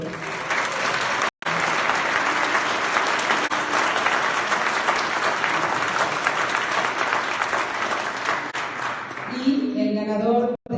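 An audience at an academic awards ceremony for a national mammalogy congress breaks into sustained, loud applause lasting several seconds before tapering off, with a voice beginning to speak as it fades.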